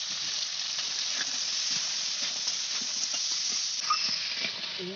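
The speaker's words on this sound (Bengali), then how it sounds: "কাঁকাটা ভাজা হচ্ছে ভাজা হয়ে গেছে" Continuous sizzling of crab lightly frying in hot oil with salt and turmeric, a steady bright hiss with small pops and crackles scattered throughout.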